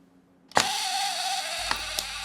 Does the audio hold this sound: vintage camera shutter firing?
yes